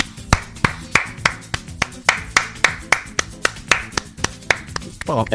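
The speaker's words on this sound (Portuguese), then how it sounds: "Palmas pra ela." Evenly spaced, sharp individual claps, about two per second, one person clapping rhythmically in approval during a podcast conversation, loud and close with a faint low background hum.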